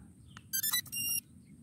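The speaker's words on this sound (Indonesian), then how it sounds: "bunyinya bip bip, kayak DJI, mirip dikit lah" An S138 drone gives a quick series of electronic beeps after its power button is pressed: a couple of short tones, then a longer steady one, close and clear over quiet room noise, with no talking.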